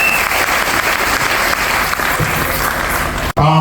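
Dense, steady applause with cheering from a church congregation at a woman's consecration as pastor, loud and continuous, cutting off abruptly at the end as a voice begins.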